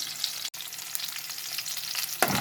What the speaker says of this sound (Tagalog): Ayan, nailagay ko na yung sibuyas. Igigisa muna natin.